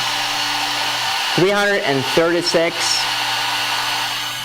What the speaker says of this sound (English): Let's see if it can handle the hair dryer if you want to dry your hair.